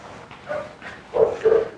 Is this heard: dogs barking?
yes